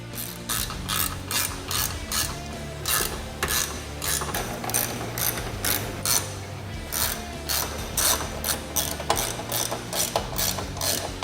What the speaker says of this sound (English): we're going to go ahead and go through and fully tighten them all.